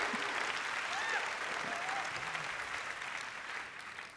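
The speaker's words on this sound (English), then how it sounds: "Applause." Audience applause at a company founder keynote, a dense wash of clapping from a large crowd, loud and steady before slowly fading.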